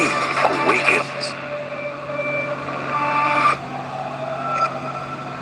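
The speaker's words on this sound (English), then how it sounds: "You heard the vroom." Car engine revving sound effect in a Realme GT Neo 3 smartphone promo, a loud, tonal roar that rises and shifts over a few seconds, with a voice present alongside it.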